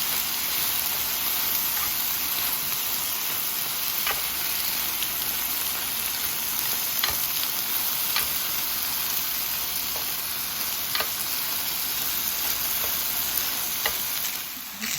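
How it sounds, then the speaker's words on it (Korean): Spinach with oyster sauce stir-fried in a pan, giving a continuous dense sizzle with occasional stirring clicks and taps, steady and close. "시금치 한 줌을 넣고 힘이 죽을 때까지 볶아냅니다"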